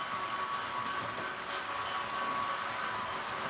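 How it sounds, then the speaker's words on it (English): A model train running on a home layout, a steady hissing, whirring rumble held evenly for a few seconds at moderate loudness, with no talk over it. "you got a train going in the background"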